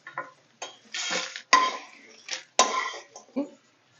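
A plate is taken out and handled in a home kitchen during cooking: several ceramic clatters and scraping knocks in irregular bursts, close and fairly loud, with a pan nearby.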